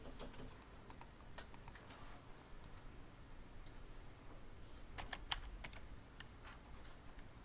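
Fingers type a username on a computer keyboard, giving quiet, irregular clicks and taps over a low steady room hum, with no talk.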